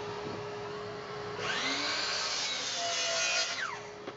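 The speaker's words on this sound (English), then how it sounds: "Over at the chop saw, I break down some 2x4 pieces of oak" A chop saw whines up and bites through a 2x4 piece of oak for a couple of seconds, steady and close, then spins down in a quiet workshop.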